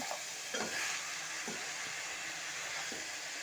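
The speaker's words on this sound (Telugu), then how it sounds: "కారం వేసుకొని మంచిగా కలుపుకోవడం అనమాట" A pan of hot oil sizzles steadily as chili powder is stirred in for a chicken curry, with a few scraping strokes of the spoon rising above the continuous frying hiss.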